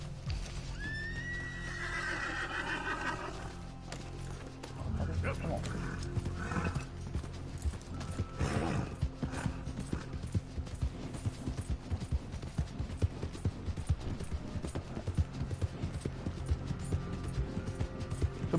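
A horse whinnies then its hooves clip-clop in a steady galloping rhythm in the video game Red Dead Redemption II, the neigh loud early on, hoofbeats continuing close throughout with someone talking over them.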